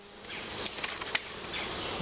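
Honey bees buzz in a dense, continuous drone during a hive inspection, close and steady, with a few louder passes of individual bees.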